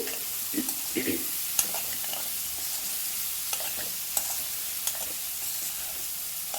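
Small prawn pieces fry in a pan with a steady, soft sizzle, and occasional stirring clinks and scrapes sound close by, with no voices over it.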